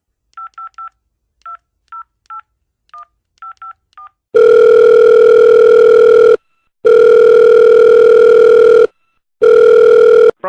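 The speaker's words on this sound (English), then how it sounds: "let's get Mr. Brian Huygens on the phone" Touch-tone telephone dialing, a quick series of short beeps, followed by a loud steady ringback tone in three long bursts separated by brief silences while a phone call is placed.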